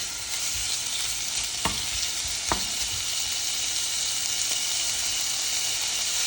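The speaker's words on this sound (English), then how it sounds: "At this point, you can add the squid. Everything in there and stir through." Squid hisses as it is stir-fried in a hot pan for Thai basil stir-fry, a loud, steady sizzle broken by a couple of sharp clicks from the stirring utensil.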